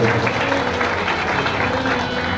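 Applause from the audience at a Bhagwat Katha religious gathering in a village, dense and steady clapping throughout with musical tones underneath.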